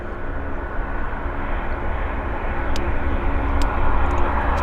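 A WestJet airliner landing at Vancouver airport gives a steady broad engine roar that slowly grows louder across the whole stretch, with a few faint clicks and no voices.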